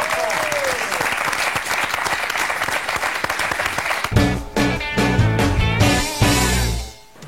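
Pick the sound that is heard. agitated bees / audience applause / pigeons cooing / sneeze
audience applause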